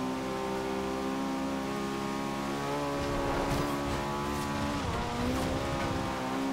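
Honda Civic Type R from 1997, lowered, sliding at speed in the racing game Forza Horizon 2, with a steady loud engine drone rising and falling and a smeared tire-slide noise across the middle, no talking.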